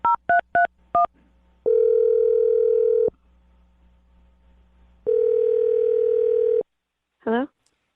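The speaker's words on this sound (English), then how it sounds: "I'm dialing her phone number." Four quick touch-tone beeps, then two long steady dial tones separated by a pause, ending with a short rising chirp.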